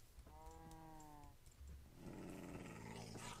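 An angry wolf in the video game Minecraft growls low and rough, a quiet harmonic snarl early on giving way to a denser rumbling growl in the second half, faint and near, with no talking.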